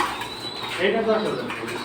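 A pair of flyer pigeons at a pigeon market lets out a short, low coo near the middle, with someone talking and market noise around it.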